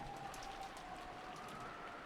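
Rain falling in the visual novel game Umineko, a quiet, even hiss of steady rainfall with a faint sustained tone running beneath it.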